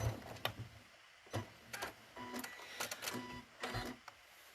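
Sewing machine running short bursts of stitches through quilted fabric for a folded star trivet, with mechanical clicking and brief pauses between the runs.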